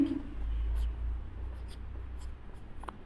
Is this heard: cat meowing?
no